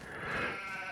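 A sheep bleats in a Farming Simulator game, one sustained, wavering cry that is fairly loud and fills the moment without talk.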